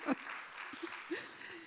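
An audience at a literary event claps with a soft, fairly faint patter, with a few voices mixed in briefly.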